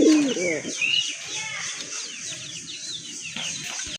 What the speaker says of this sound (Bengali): মাশাল্লাহ আরেকটা পেয়ার দেখতে পাচ্ছেন, এটা কিন্তু দেশি কবুতর